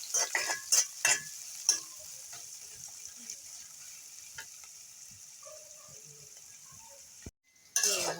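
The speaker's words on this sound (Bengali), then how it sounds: "পেস্টটা দিয়ে ভাজা করলাম।" Spice paste fries in a pan for chicken bhuna with papaya, a steady sizzle broken by several sharp clinks of a spoon stirring against metal, then a brief silence before the frying resumes.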